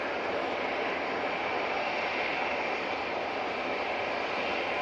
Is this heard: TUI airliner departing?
yes